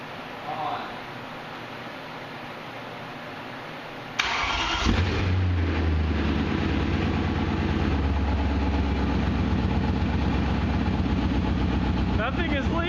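BMW E30 fitted with a swapped M60 V8 cranks and fires for the first time partway through, then settles into a loud, steady, rumbling idle close by; people talk over it.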